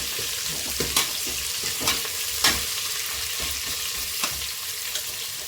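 Sambar ingredients, including onion, stirred and frying in a pan: a steady close sizzle with a few sharp scrapes of a spoon against the pan, no talk.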